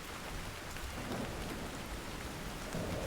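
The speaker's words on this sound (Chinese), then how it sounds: "正下雨呢，怎么站？" Steady heavy rain falling in a dense, continuous hiss with no breaks, filling the whole scene at a constant loud level.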